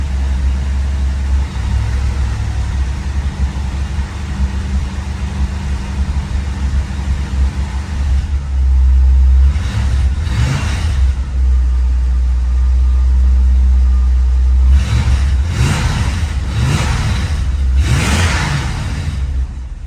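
A 1965 Ford Thunderbird V8 rumbles steadily at idle, then revs up in several short bursts toward the end, loud and close with no talking.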